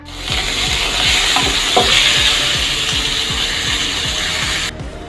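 Onions and capsicum sauteing in a pan for malai chaap, a loud continuous sizzle with a rhythmic scraping stir repeating about twice a second, no voices, cutting off near the end.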